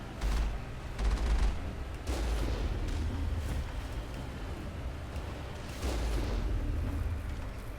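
Incoming missile fire in the video game Mass Effect booms in heavy, rumbling blasts, a few loud thuds spaced over a continuous low roar.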